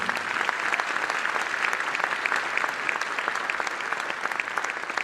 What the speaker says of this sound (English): So let's give a round of applause for them as well.